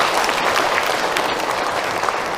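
An indoor audience at a religious talk claps together in a dense, sustained round of applause, loud and close, with no speech over it.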